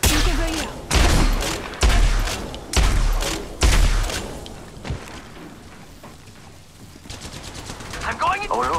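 Bursts of gunfire in Apex Legends Mobile, several loud, closely spaced volleys in the opening seconds, then quieter scattered shots and game noise with faint voice chatter.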